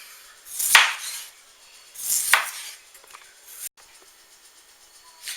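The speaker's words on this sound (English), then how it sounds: "We'll go ahead and finish chopping this up." Two or three crisp knife strokes chopping potatoes on a cutting board, spaced a second or so apart, close and clear with quiet pauses between.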